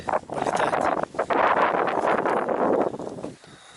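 Strong wind blows outdoors at Sharoy, buffeting the microphone in continuous gusty rushes that swell and dip, easing briefly near the end.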